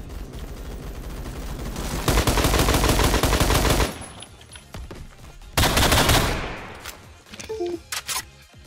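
Scoped SKS rifle firing in the online shooter game Phantom Forces: two loud, dense bursts of rapid shots, the first about two seconds long and the second shorter, with quieter game noise between them.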